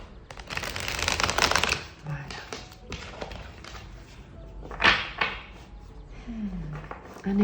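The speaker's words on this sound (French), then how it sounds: "On va encore battre une fois les cartes et on procédera par coupe" Playing cards are shuffled close up during a tarot-style reading, a dense rapid riffle at the start followed by softer intermittent shuffles and taps, with quiet talk in the background.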